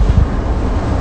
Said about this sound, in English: the wind coming through my truck like this